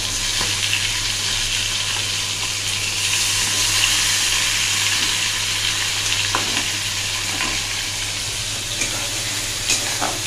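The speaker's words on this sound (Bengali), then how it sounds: "মশলাটা মোটামুটি কষা হয়ে গেছে" Spice paste (masala) with ginger, garlic and onion frying in a pan, a steady loud sizzle and crackle throughout with occasional brief spits and pops, no voices.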